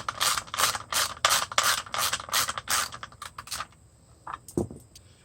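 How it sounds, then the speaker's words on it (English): A stud being unscrewed from a 1999-2004 Mustang third brake light mount, heard as a close run of rhythmic ratcheting clicks that give way to sparser scrapes and knocks, with no talk. "you can screw the stud itself out"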